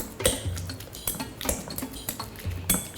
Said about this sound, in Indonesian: ini kita haluskan si labunya selagi dia masih panas